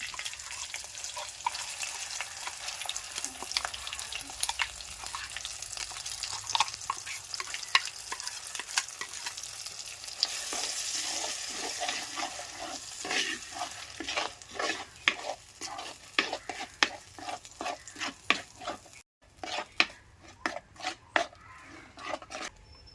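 Ground curry paste made with curry leaves frying in a pan for a Kollam-style fish curry, steady sizzling under repeated scraping stirs that turn quicker and more clattery near the end.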